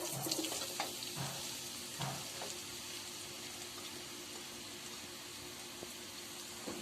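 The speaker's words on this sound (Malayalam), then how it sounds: "സവോള ഇനി നല്ലതുപോലെ വഴറ്റിയെടുക്കാം" Sliced onions sauté in hot ghee and sunflower oil for a Kerala-style egg biryani, a soft, steady sizzle with a few light clinks and stirring knocks early on, heard alone.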